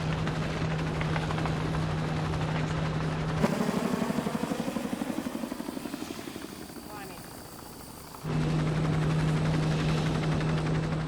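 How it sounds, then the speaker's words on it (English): A helicopter's heavy rotor thump and engine drone over a valley in Malawi, loud and steady, fading somewhat in the middle before returning close and strong. "as long as the helicopter stays behind it, the noise should be enough to drive it in the right direction"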